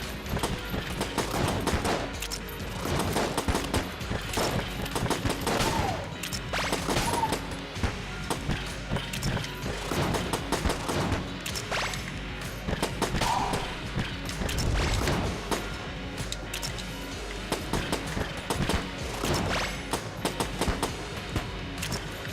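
Gunshots from the game Enter the Gungeon come in a steady stream of sharp bursts with thuds and crashes mixed in. The firing is loud and near and continues for the whole span.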